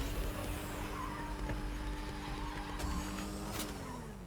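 A car driving in the Fortnite video game, holding a continuous engine drone with sharp tire-skid squeals breaking in near the end.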